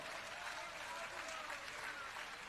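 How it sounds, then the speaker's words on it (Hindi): Faint, steady applause from a gathering at a religious function, continuous even clapping heard from a distance with no breaks. "अरे जरा आगे बढ़ो और तालियां बजाओ"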